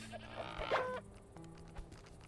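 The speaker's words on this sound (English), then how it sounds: "And we should be able to milk the goats." Goats bleat in the survival game Mr. Prepper, with one wavering cry standing out over soft background music and a few quieter calls and clicks after it.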